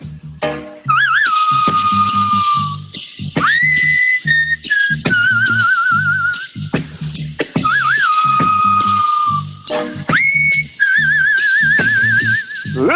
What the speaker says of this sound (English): The man is singing and whistling at the same time, one track.